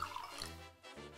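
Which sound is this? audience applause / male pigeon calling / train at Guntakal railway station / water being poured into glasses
water being poured into glasses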